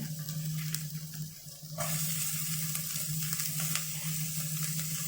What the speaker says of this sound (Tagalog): Now let's put the onion.